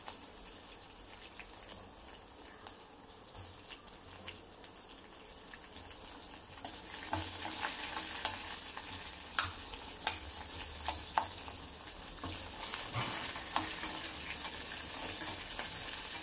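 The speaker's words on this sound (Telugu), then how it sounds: "మనం ముందుగా కట్ చేసి పెట్టుకున్న ఆనియన్స్, పచ్చిమిర్చి కూడా వేసుకోవచ్చు. టమాటో కావాలంటే టమాటో కూడా వేసుకోవచ్చు. కొంచెం వీటిని ఫ్రై చేద్దాం." Chopped onions and green chillies fry in a pan for poha. A quiet sizzle grows louder partway through, and repeated close spatula scrapes and knocks join it. No talking.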